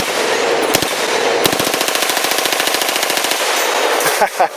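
An HK MP5 9mm submachine gun is fired full auto one-handed, delivering a loud rapid string of evenly spaced shots for about three seconds after an opening shot, then stopping.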